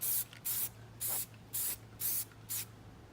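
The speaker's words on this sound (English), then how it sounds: "Start off with a coat of white spray paint" White spray paint hissing from an aerosol can onto old mallard duck decoys, six even bursts of about a third of a second each with short pauses between, close and steady over a faint low hum.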